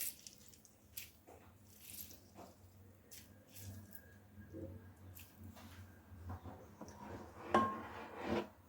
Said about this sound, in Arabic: غادي نعصرو على هاد التفاح باش ما يكحاش لينا اولا يتاكسد